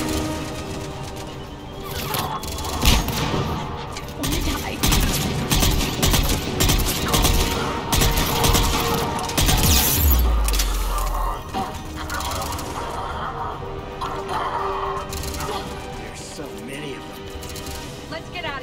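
Grenade explosions and gunfire in a Mass Effect 3 firefight, dense clattering bursts and a heavy low blast near the middle, continuous and loud with voices talking over the combat.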